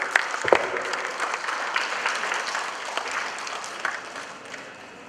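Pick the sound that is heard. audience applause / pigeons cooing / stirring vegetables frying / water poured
audience applause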